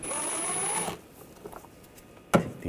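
Phillips-head screws come out of the front inner fender liner of a 2014–2020 Nissan Rogue. A brief whirring drive sound is followed by faint ticks and a sharp clunk, close by.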